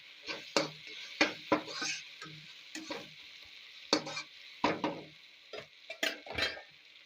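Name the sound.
stirring and mixing spices with turmeric in a pot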